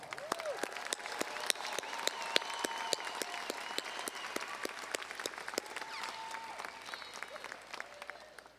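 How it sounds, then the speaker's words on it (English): Graduates of Edmonds Community College's class of 2019 receive applause at their commencement: fairly faint, sparse, crisp hand claps ring out at an uneven pace over soft tonal background sound. "One more hand of applause."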